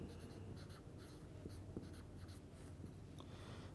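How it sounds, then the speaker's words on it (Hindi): Marker or chalk scratches across a board during a chemistry lecture, a faint, close, continuous writing sound over a low room hum with no speech. "तो मैं यहां पे लिख देता हूं"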